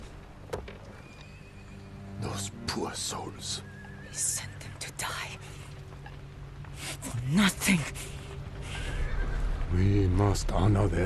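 Horses in the video game Ghost of Tsushima neigh and whinny in shrill bursts over a rumbling battle backdrop, with faint hoofbeats and voices mixed in.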